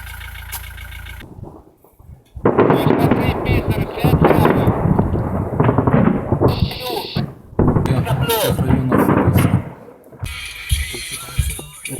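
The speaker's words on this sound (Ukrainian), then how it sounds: "Тихо, хто а стріляє? Это град." Rapid booming salvos from a Grad rocket launcher rumble continuously at a distance, with people talking over the loud, rolling barrage.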